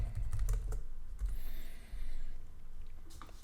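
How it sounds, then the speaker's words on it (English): Computer keyboard typing of a short chat message, a steady run of quick close key clicks with brief pauses, alone without talk. "I'll just type in, did you get the order?"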